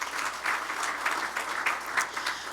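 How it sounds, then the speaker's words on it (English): A dinner crowd at the AMAC 2012 awards applauds its host, the Houston Airport System, with brisk, steady clapping from many hands, fairly close and unbroken, with no voices. "Let's give them a round of applause."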